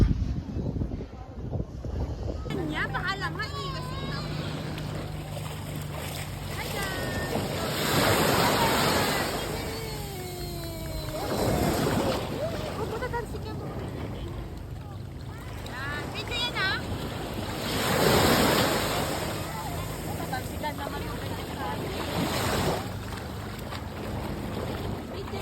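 Sea waves at a beach in Morong, Bataan, surf washing in and out in slow broad surges every few seconds, with wind buffeting the microphone and people talking nearby.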